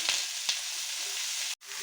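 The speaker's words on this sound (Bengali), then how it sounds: "এবারে টুকরো করে রাখা আলুগুলো দিয়ে দিচ্ছি" Cut potato pieces drop into hot oil with fried nigella seeds in a kadai, giving a steady, close hiss of sizzling with a couple of small splashes, then a brief break.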